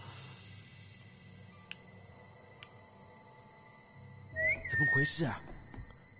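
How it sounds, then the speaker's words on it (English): A player character whistles to lure guards in the stealth game Assassin's Creed Chronicles: China, a short bright whistle rising out of quiet game ambience, with faint tones earlier. "I can whistle!"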